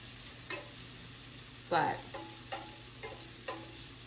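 Beyond Meat spicy Italian sausage fries in a pan with a soft, steady sizzle, punctuated by several spatula scrapes and one louder stir, close and fairly quiet.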